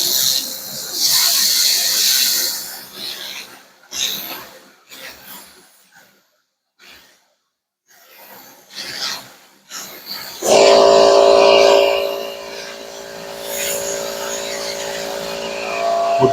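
Laser refinishing a gray painted cabinet, a loud hissing and whooshing from the laser and extraction, pausing to near silence midway before resuming with a steady high whine and hiss.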